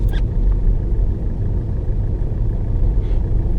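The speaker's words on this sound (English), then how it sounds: "The engine's really struggling." A manual car engine labours in fourth gear at very low speed without throttle, giving a heavy, uneven low rumble that persists steadily, heard from inside the car.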